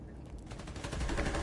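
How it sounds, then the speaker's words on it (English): Enemies fire on transmitters in a Spider-Man video game: a short, muffled burst of gunfire with a dense, rumbling crackle that swells louder toward the end. "They're shooting at your transmitters."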